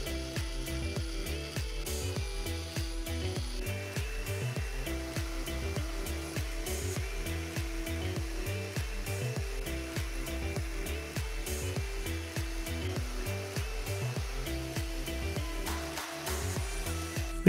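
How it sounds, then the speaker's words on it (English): A CNC 3040 router with a 500W spindle cuts 6 mm plywood, producing a steady whining hum broken by rapid rhythmic cutting pulses throughout. No voices are heard. "I cut out some 6 mm or 1/4 inch plywood"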